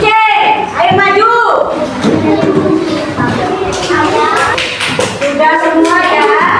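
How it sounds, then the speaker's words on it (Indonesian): Primary schoolchildren in a classroom clap together, quick bursts of hand claps mixed with lively children's voices and a teacher talking, close and fairly loud throughout. "Tepuk tangan dulu."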